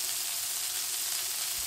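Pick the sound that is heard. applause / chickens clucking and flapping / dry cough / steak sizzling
steak sizzling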